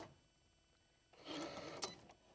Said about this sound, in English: Now your machine is going to go through here and cut on all of these lines.